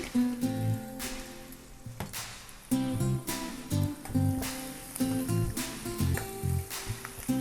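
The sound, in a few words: cumin and green chillies sizzling in hot oil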